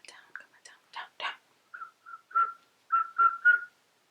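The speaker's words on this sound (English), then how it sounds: "I did not just go into a Christmas whistle." A person whistles a Christmas tune softly and close by, in short breathy phrases and separate notes with pauses between them. A few whispered sounds are mixed in.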